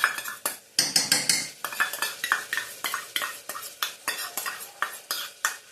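Curd spooned into a vegetable pulao, rapid repeated metal spoon clinks and scrapes against a pot in quick rhythmic strokes, close and without talk.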